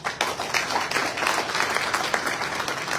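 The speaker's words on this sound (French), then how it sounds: "et ça aussi, ça s'applaudit" Crowd applause at a political meeting with village chiefs and community leaders in Côte d'Ivoire, a sustained dense clatter of many hands clapping, loud and even for the whole stretch.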